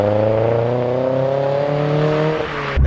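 A 30-year-old Vauxhall Nova's engine gives a steady, raspy drone while cornering, holding a near-constant pitch for a few seconds before a sudden thump cuts in at the end.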